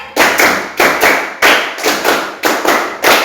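A group claps together in a counted rhythm pattern, crisp sharp bursts landing in irregular groupings, about a dozen loud claps in quick succession with short gaps between sets.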